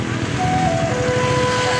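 Stop-and-go road traffic in a jam near Kabankalan, with a steady close engine rumble and a couple of thin horn-like tones over it.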